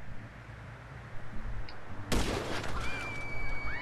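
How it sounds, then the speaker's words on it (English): Single loud gunshot in the video game Grand Theft Auto 5, a sharp crack midway through followed by a ringing tail and whistling echoes over low background rumble. "And now I'm taking the shot."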